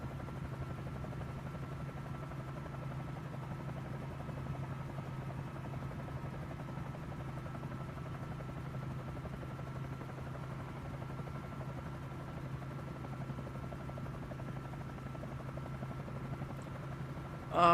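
An Airbus H125 helicopter flies steadily in Microsoft Flight Simulator 2024, producing a constant droning rotor and turbine hum that holds at an even level throughout, with a brief click at the very end.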